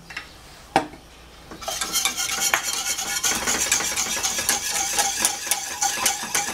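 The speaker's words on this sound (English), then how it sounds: "So now I'm just going to keep whisking this." Whisking French buttercream (ermine) frosting with vanilla in a pot, a steady close scraping and stirring rattle of the whisk against metal that continues without pause after a brief opening clink.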